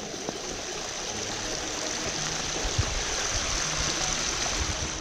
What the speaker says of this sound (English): As the water returns down here now, instead of rushing down the way, slow down and moving its way through all of this vegetation here